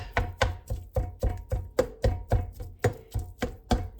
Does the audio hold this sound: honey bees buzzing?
no